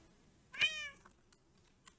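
A single short Minecraft cat meow, clear and close with a rising-falling tone, in an otherwise quiet stretch.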